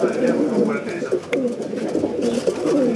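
Racing pigeons at a pigeon festival in Serres, with steady low cooing and fluttering bird sounds close by, blended with background crowd murmur throughout.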